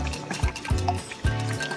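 White wine vinegar pours from a bottle in a home kitchen, about eight tablespoons for an olive oil marinade, with a few short liquid glugs and gurgles close by.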